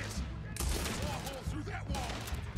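Gunfire in Red Dead Redemption with a chaos mod, a few loud cracking shots amid busy game noise, with a voice faintly underneath.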